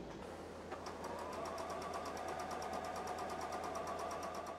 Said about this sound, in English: when you're sewing these pieces on, you just need to sew right on the diagonal line